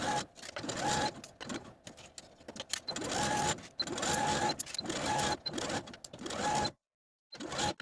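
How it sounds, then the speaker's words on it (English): A sewing machine stitches a facing onto a vintage 1960s dress neckline in close, loud bursts of rapid needle chatter, starting and stopping several times with brief pauses between runs. "We're going to start and stop the stitching 5/8 of an inch below that shoulder seam"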